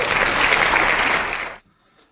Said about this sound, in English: Oh, he deserves an applause.